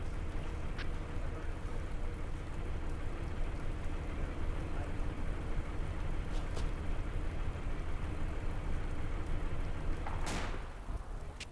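Steady rain falls in a dense, even hiss, fairly faint and constant throughout, with a few brief sharper noises near the end.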